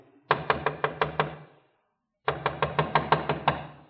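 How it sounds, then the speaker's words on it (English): Firm knocking on an outside door in a radio drama: a quick run of about seven sharp raps, a pause of under a second, then another run of similar raps, close and loud with no talking. "Someone's trying the outside door."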